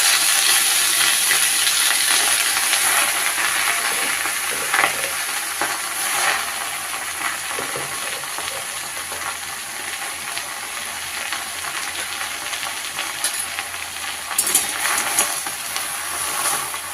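Leafy greens hit hot oil already tempered with garlic, a loud, close sizzle and crackle that gradually eases into a steadier hiss, with occasional stirring clatter.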